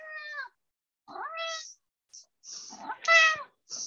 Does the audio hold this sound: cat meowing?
yes